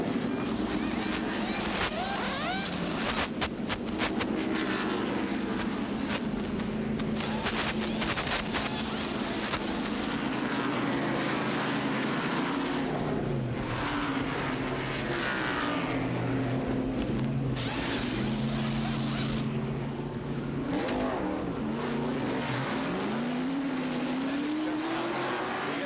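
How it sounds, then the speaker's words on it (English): Crew-cam pit stop for Rusty Wallace's NASCAR Winston Cup car at the 1989 Goodwrench 500, a steady loud engine roar with bursts of impact-wrench clatter as tires are changed, under a continuous wash of crowd and track noise. "And here's Rusty Wallace coming into the pits, and we'll watch that pit stop."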